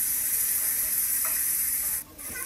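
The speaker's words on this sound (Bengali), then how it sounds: "এখন পেঁয়াজ, রসুন আর টমেটো পেস্টটাকে আবারও আমি কিছুক্ষণ ভেজে নেব।" Onion, garlic paste and tomato paste sizzle steadily in a hot pan, a continuous close frying hiss with faint stirring, dipping briefly near the end.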